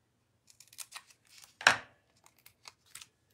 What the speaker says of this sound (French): On va couper un petit peu de mousse